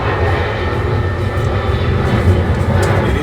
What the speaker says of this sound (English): airplanes are taking off and they're going to be interrupting me a little bit